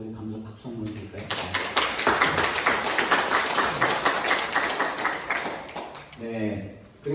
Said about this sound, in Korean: 다시 한번 우리 감사 박수 한번 드릴까요?